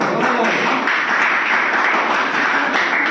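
An audience claps together at a business gathering, a dense, sustained wash of applause that stays level for the whole stretch, with no one speaking over it.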